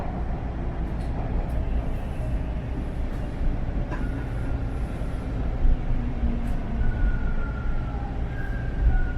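Toronto subway train pulling into Bathurst Station, a steady loud low rumble of wheels and motors with rising electric whine tones and brief squeals near the end.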